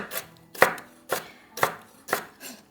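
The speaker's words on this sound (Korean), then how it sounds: "김밥용 단무지 이렇게 송송 썰어주세요" Pickled radish (danmuji) for kimbap being sliced on a cutting board, five distinct knife chops spaced about half a second apart, close and clear with no talking.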